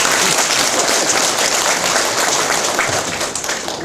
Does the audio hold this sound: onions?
no